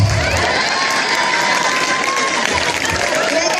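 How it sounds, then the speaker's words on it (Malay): Crowd at an Aceh cultural festival in Ujong cheering and applauding, a dense, steady wash of clapping and children's shouts lasting the whole stretch at close range. "Tepuk tangan deh."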